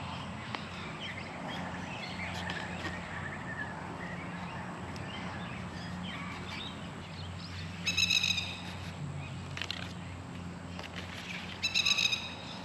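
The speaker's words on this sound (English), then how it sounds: "there's a plover making a heck of a noise because I angered it the other day" An angry plover calls in a garden, sharp high repeated cries coming in short bursts over a faint steady background hiss, fairly distant and quiet.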